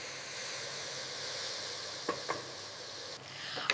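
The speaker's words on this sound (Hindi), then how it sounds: "अब तेज़ आंच पर भूनी जब तक मसाले से ऑयल सेपरेट ना हो जाए।" Chicken karahi masala sizzling steadily in a kadai over a high flame, with a few brief scraping stirs partway through; continuous frying hiss with no talking.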